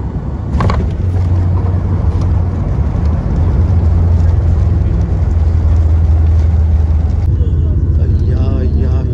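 Low, continuous rumble of an airplane landing and braking on a runway, heard from inside the cabin as a steady roar, with voices talking over it.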